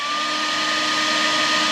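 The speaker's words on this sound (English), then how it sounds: "If I turn the hairdryer up to setting 2," A hairdryer turned up to its second, higher setting while powered from a portable power bank in a campervan, a loud steady whir with a constant motor whine and no breaks.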